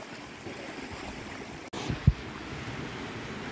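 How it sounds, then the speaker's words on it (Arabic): Sea waves wash against rocks at a Marsa Matruh beach, a steady broadband surf rush with a brief thump of a breaking wave, continuous and moderately loud, with no one speaking. "والموج الجميل اللي عمال يتلاطم كده في الصخور"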